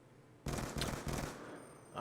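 Bursts of rapid gunfire in an online shooter match of Search and Destroy on the Standoff map, a loud close volley of several quick shots that cuts in abruptly and then tails off into background game noise.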